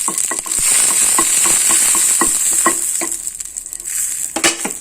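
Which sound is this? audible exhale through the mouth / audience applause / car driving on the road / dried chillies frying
dried chillies frying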